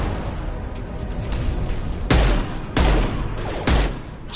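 Bursts of gunfire in the Mass Effect 2 video game, three loud heavy volleys crashing in over a steady rumbling background, spaced about a second apart.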